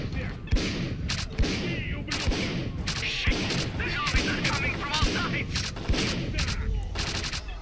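Rapid bursts of gunfire from a weapon in STALKER: Clear Sky, a steady stream of shots at an even rhythm with sharp transients, close and loud, with a voice talking over parts of it.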